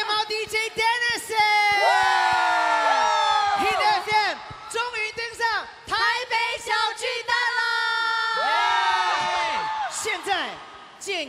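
An audience at a music awards ceremony screams and cheers in rising, overlapping shrieks and whoops, loud and close, surging in several waves with brief lulls between them.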